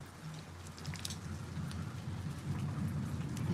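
Steady rain pattering on a surface, constant and close, with no voices.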